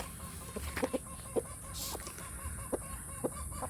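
Free-range village chickens cluck in short, scattered calls, a few clearly near and the rest softer, over a steady outdoor background on a farm raising native chickens.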